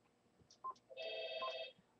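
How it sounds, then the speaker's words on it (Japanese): A telephone rings with an incoming call in a Fukuoka pawnshop: a faint electronic ring with two short chirps followed by a sustained warbling tone, quiet against a hushed room. "逆に私に電話がかかってきようけんさ"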